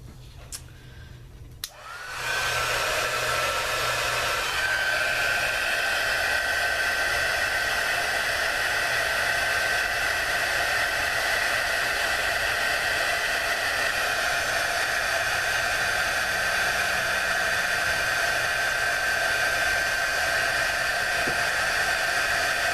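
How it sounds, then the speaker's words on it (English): A heat gun blows hot air at close range while window film is being fitted, starting after about two seconds and then holding a loud, steady rushing whir to the end, with no talk over it. "So I'm going to hit it with the heat gun."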